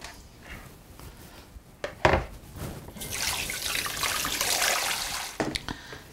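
A kitchen tap runs as something is rinsed under it, giving a steady hiss of water into a sink, framed by a few soft knocks and clatters nearby.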